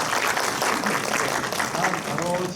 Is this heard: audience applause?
yes